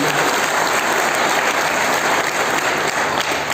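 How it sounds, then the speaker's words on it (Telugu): A large audience at an inauguration event breaks into loud, sustained applause, dense clapping filling the whole stretch without letup. "వాళ్ళ బిడ్డలు గట్టిగా చప్పట్లు కొట్టండి"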